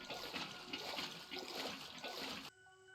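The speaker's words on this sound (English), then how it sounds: "I bet if I had a pump, I could probably pump the seawater into the drum." Seawater gushes and splashes steadily into a drum in the survival crafting game TerraFirmaGreg, a continuous rushing pour that stops abruptly near the end, leaving a faint tonal hum.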